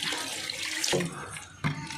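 Water poured into tamarind pulp with salt while mixing a large batch of pulihora, a steady close splashing and trickling with two brief sharper splashes, no talk.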